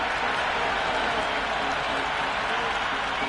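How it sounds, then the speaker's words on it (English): A dense, continuous roar of a large crowd cheering and applauding at the Multan Cricket Stadium during a T20 match between Islamabad United and Bangalore Crowns, loud and unbroken throughout. "the crowd have joined the party. It's pretty noisy at the ground."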